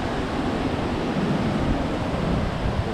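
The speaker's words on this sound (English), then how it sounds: "Can check the waves, nothing really good at all." Ocean waves at a Dominican Republic beach, a steady broad roar of surf with wind buffeting the microphone, continuous and fairly loud with no talk.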